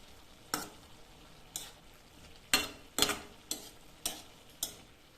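Ivy gourd stir-fry stirred in a pan: a soft background sizzle broken by about eight sharp scraping clicks of the spoon against the pan, spaced irregularly, with no voices.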